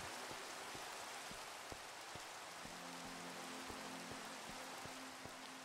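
Steady rain falls in Minecraft Skyblock, a soft continuous hiss with regular faint clicks and a brief low hum partway through.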